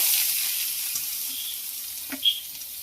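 Dried red chillies and curry leaves fry in a pan with a steady soft sizzle, a faint scrape or stir near the end.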